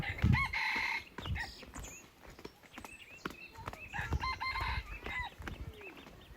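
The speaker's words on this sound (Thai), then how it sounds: "ไก่ขัน" Roosters crow repeatedly nearby in a remote village with no electricity, mixed with hens clucking and scattered farmyard clatter.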